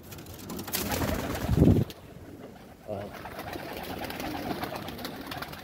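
Pigeons coo in a pigeon loft, soft low throaty calls rising briefly near the middle, under a voice and background rustling.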